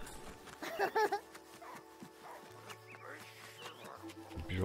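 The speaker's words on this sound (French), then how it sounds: "Puis je vais probablement aller jouer avec le chien cette fois-ci." A dog in the game Last Day of June gives a few short yips and whimpers near the start, then fainter soft sounds over a low hum and a quiet tone.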